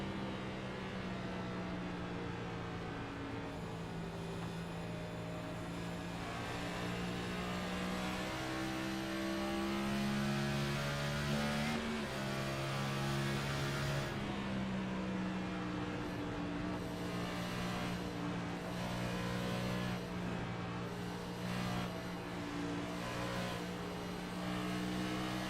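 Onboard a race car lapping Darlington, the engine drones loud and close the whole way, its pitch rising and falling as the throttle is stabbed and lifted through corner entry and exit.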